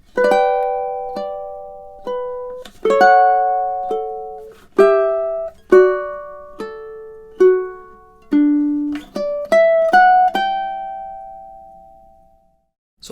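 A solo ukulele plucks a slow lyrical classical melody from Bella Vita, measures seven to nine: clear single notes and short chord strums ringing out one by one, close and clean with no voices.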